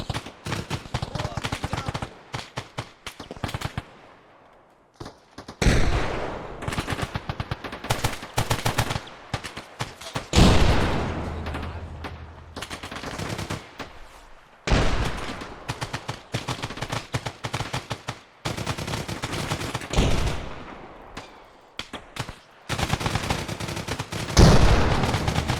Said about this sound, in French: T'as pris une balle, Miller.